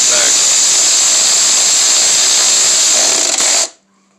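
A Hyper Tough 12V cordless ratchet tightens a bolt with a loud, steady high-pitched motor whir that runs for several seconds and then cuts off abruptly into near silence.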